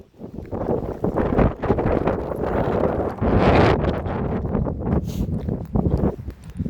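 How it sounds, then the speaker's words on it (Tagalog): Strong gusty wind buffeting the microphone with loud roaring rumble, rising and falling in surges throughout. "Ang hangin."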